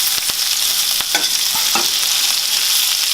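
Butter sizzling and spitting in a hot frying pan as it is spooned over the food, a steady close crackle with a few sharp clicks and scrapes from the spoon against the pan.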